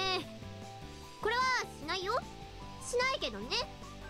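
Cat meowing in a visual novel game, several high, bending mews rising and falling over a soft musical background, fairly close and clear, with no one talking over them.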